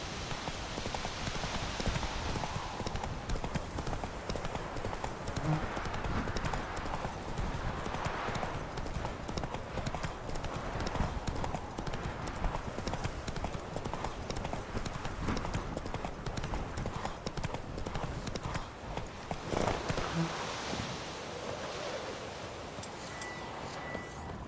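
A horse gallops steadily in The Witcher 3: Wild Hunt, with rapid rhythmic hoofbeats on a dirt path running continuously for the whole stretch amid rustling and ambient noise, with brief spoken words.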